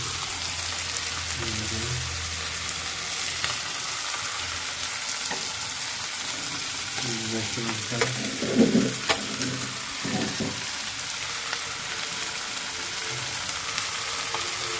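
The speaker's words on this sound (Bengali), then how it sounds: "মাছটা একটু কিভাবে ভাজা হচ্ছে দেখুন" Fish fries in a pan of hot oil at home, a loud, continuous close-up sizzle with a few brief bubbling spurts midway and no talking.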